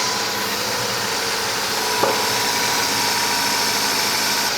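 A CB7 Honda Accord engine idles smoothly after a timing belt and water pump install, giving a steady, close hum with one brief knock partway through and no talk.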